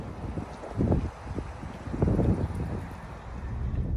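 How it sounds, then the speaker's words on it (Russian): Gusty wind buffets the microphone in rumbling surges in a northern English town, swelling twice and then holding steady, with a faint outdoor wash behind it. "У нас такой ветер."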